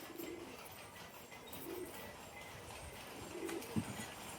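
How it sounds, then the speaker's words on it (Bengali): Soft cooing from a golden female pigeon, a few low murmured coos spread through the stretch over a faint steady background, close and quiet with no talk. "এটা ধাড়ি গোল্ডেন মাদি"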